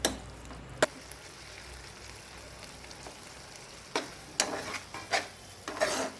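Onion curry being stirred in a pan, with scattered scraping and stirring strokes over a soft background sizzle, the strokes bunching closer together toward the end; no talking.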